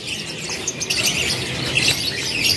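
Parakeets, including red-eyed albino and lutino birds, chirp and tweet continuously at a kiosk in a bird market, a busy overlapping chatter of many small calls close by.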